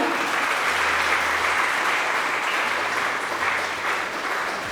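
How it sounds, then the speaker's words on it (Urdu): Loud, sustained applause from a church gathering for Father Edward during a Lent prayer and fasting program, a dense continuous roar of clapping with faint voices underneath. "پلیز فادر ایڈورڈ کے لیے بھرپور تالیاں"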